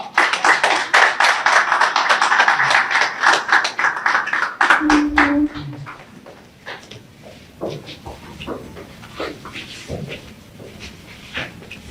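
A hall audience applauding as a committee enters, with dense, loud clapping for about five seconds before it thins into scattered claps and faint voices.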